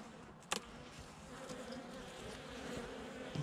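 A soft, steady buzz of a honeybee colony humming together during a November winter hive inspection, faint and continuous, with a brief knock near the start.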